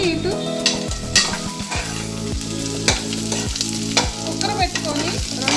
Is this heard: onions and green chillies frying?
yes